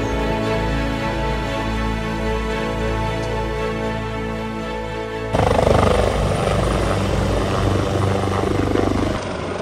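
A rescue helicopter's rotor and engine drone steadily at close range, the sound shifting and growing louder partway through as it passes or changes pitch.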